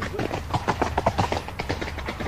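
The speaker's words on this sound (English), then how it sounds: "The gentleman jumped on his horse and galloped away in the opposite direction." A horse gallops off in a rapid clip-clop of hooves, fairly loud and close, receding as the rider flees; the hoofbeats run steadily throughout with no voices.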